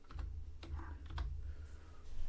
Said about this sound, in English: Ooh, got a bouncy keyboard.